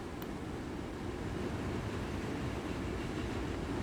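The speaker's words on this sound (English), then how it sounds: "Come on, train, you can do it." Heavy steam train in the railway game Transport Fever 2 labours slowly uphill, giving a steady low rumbling chug and rolling noise that stays constant throughout, without speech.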